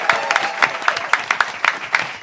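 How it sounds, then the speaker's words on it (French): Audience applause at the close of a live show, loud, fairly sparse claps with a distinct rhythmic beat, close by and without talk. "Bravo, vous pouvez vous applaudir."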